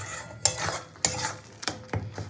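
A spoon scrapes and stirs lote fish bhorta in a pan as it dries out, giving four sharp, separate scraping strokes about half a second apart over a quiet background.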